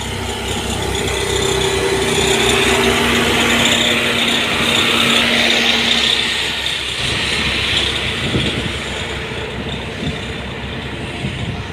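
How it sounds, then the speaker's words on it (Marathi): Heavy machinery levelling a new railway track bed at a construction site near Navgan Rajuri, Beed, producing a loud continuous engine roar and grinding rumble with rattling bursts, steady throughout. "पाहू शकतो आपण कशा पद्धतीने या ठिकाणी ह्याची लेवलिंग चालू आहे"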